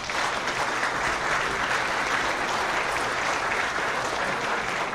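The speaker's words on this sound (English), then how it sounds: "Let's give them a round of applause." An audience at a college Hall of Champions ceremony claps in sustained, dense applause that holds at an even level for the whole stretch.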